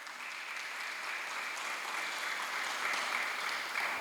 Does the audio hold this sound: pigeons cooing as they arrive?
no